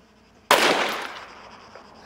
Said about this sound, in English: KSVK, this looks like an anti-tank rifle.